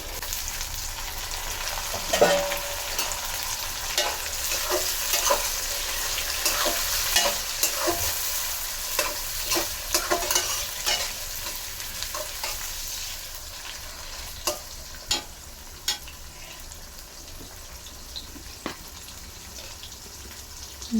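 Shrimp sizzle with chopped onion in a hot pan, a continuous frying hiss broken by repeated scraping and clinking as a utensil stirs the mixture at a steady, unhurried pace.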